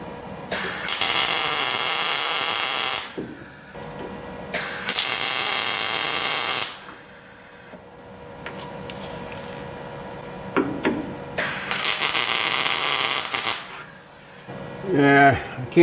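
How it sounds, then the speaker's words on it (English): Arc welder laying beads on a vehicle frame under repair, heard as several loud, sustained crackling bursts a few seconds long, separated by short pauses with a faint background hum. "I may have to try and get a little hotter on the welder"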